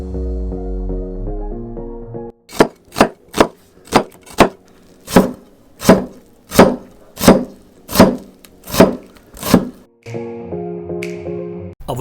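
A knife dices a peeled onion finely on a cutting board, about a dozen crisp, evenly spaced chops in a steady rhythm, loud and close, set between short stretches of quiet background music.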